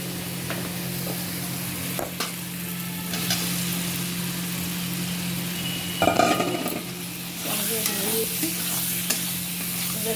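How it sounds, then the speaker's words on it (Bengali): Fried potatoes going into a shola kochu (taro) curry in a pan, with a constant oily sizzle, a low background hum and repeated stirring scrapes and clinks that grow busier midway and again near the end. "এখন আমি ভেজে রেখা আলুগুলো দিয়ে দেবো"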